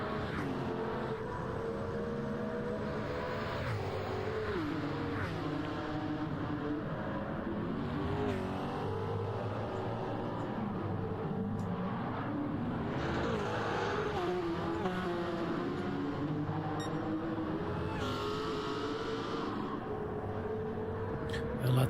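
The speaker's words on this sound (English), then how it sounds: "Nissan in the lead. Behind that a Porsche and a Porsche, and behind that we've got the first Sauber with the second Sauber behind it as well." Classic Nissan, Porsche and Sauber race cars thunder around the Le Mans Classic circuit in a continuous, loud roar of engines running close together, revving and passing, with no break in the noise.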